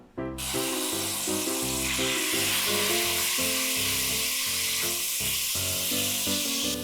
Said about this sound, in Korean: 고기를 좀 볶아볼게요. 올리브오일 조금만 두르시고요.